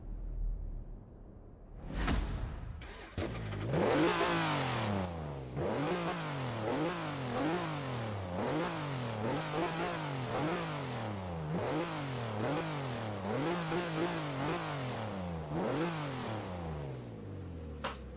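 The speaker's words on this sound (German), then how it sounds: "Wir hören uns den V6 mal an." Gladiator V6 engine in Forza Horizon 4 revving hard through repeated rising sweeps and gear shifts, loud and close, each climb cutting off and restarting in a steady rhythm after a brief whoosh at the start.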